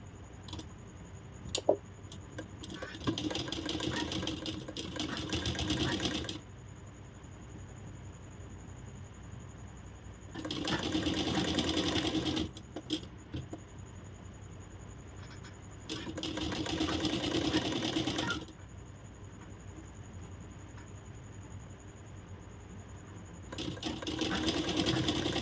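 A sewing machine stitches blouse fabric in three separate bursts, each a few seconds long, giving a steady mechanical whir. Quiet pauses fall between the runs.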